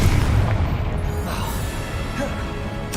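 Confringo explosive spell blast in Hogwarts Legacy, a loud booming burst with rumbling low end that sustains across the moment, close and dense with no talk over it.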